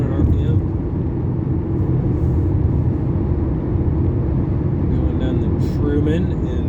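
A 2011 Ford E350 wagon cruises at 77 mph around 2,500 RPM. The cabin holds a steady, low road-and-engine rumble, and a person talks over it throughout.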